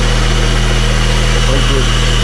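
A Mitsubishi Lancer engine idles with its air-conditioning compressor belt removed, a loud, steady low hum and vibration running without break, with faint voices over it.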